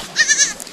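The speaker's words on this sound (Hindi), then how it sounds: "गद्दी नस्ल की जो बकरियां हैं यहाँ पे चर रही हैं पीछे" Gaddi breed goats bleat in a forest grazing area, a few wavering calls in quick succession, moderately close, with no talk over them.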